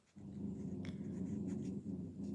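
A puppy growls low and breathes heavily at close range, a continuous rumbling snarl with small pauses, and no talking over it.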